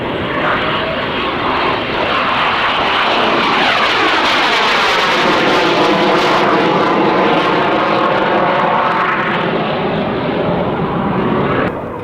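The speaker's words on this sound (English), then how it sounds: "Undercarriage down. For a quick touch and go landing, or maybe they'll just do the low shoot." An aircraft at the 1995 Fairford airshow passes low with its undercarriage down for a touch-and-go, a loud sustained engine roar whose pitch sweeps steadily as it flies past, heard alone.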